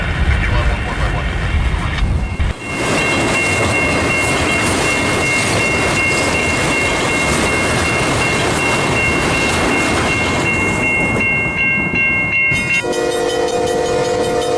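A CN freight train on the Camrose subdivision roars past close by in winter, a loud steady rumble and rattle of cars with a tonal horn-like ringing throughout, ending in a shift of sound near the end.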